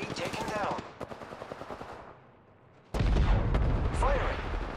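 Video game gunfire, dense rapid bursts of automatic shots, loud and close, with a brief lull before another heavy barrage, while a voice talks over the action.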